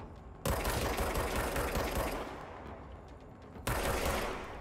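Sustained automatic gunfire in the shooter game Control, a loud, dense rattle that runs for several seconds, drops slightly, then bursts again at full intensity, with no talking over it.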